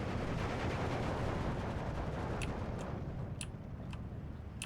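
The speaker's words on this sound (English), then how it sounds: "Alright, artillery starting to shoot. Oh, and these are the big 160mm mortar." Artillery and big 160mm mortars firing in the game Steel Division II, a dense rumbling barrage with a few sharp, distant-sounding cracks toward the end, no talk.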